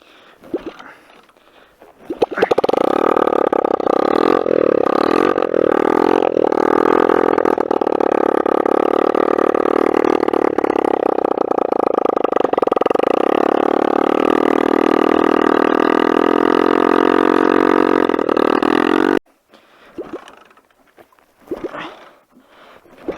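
A mini bike engine revs loudly and steadily for most of the clip, in snow, its pitch climbing and wavering, then cuts off abruptly, leaving quiet background sounds.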